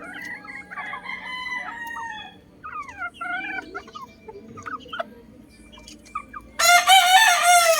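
Boston Roundhead gamefowl hens cluck and chatter in the background, then a rooster crows loudly and close near the end.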